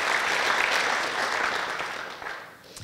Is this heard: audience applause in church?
yes